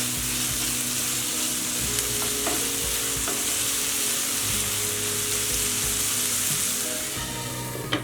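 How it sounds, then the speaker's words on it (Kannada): Curry frying and being stirred in a pan over a high flame, a steady loud sizzle with scraping stir strokes throughout, no voices. "ಹೈ ಫ್ಲೇಮ್ ಇಟ್ಕೊಂಡೆ ಫ್ರೈ ಮಾಡ್ಕೊಳ್ಳೋಣ"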